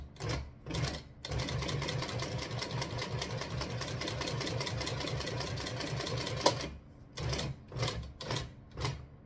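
A sewing machine stitches leather for a handmade trifold wallet, short bursts of fast rhythmic whirring at the start, one long steady run in the middle, then several brief bursts.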